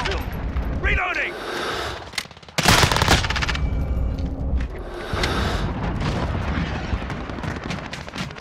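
Loud bursts of automatic gunfire and explosive blasts from a shooter video game in a back-alley firefight, with a heavy boom near the middle and steady firing on either side under spoken callouts.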